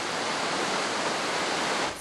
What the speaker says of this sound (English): So much water it's spilling over at Burrendong Dam.